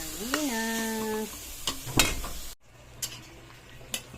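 Bottle gourd and sardines are stirred in a pan, with a few sharp utensil scrapes and clinks over a soft sizzle, nearby and without talk; a short tonal whine sounds early on.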